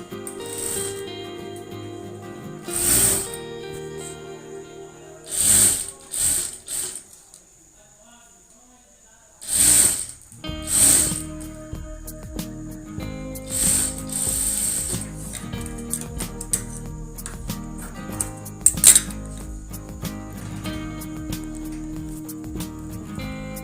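A sewing machine runs in several bursts, stitching fabric strips onto a baby frock, with a mechanical whirring rattle between pauses, close by, while a person talks throughout.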